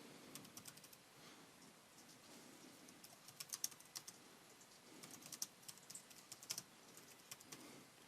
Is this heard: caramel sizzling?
no